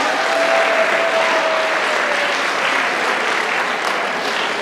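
Audience applause for a panel of judges at a high school Poetry Out Loud competition, a steady, dense clapping wash that holds at full strength for several seconds without pause.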